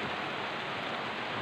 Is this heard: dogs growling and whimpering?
no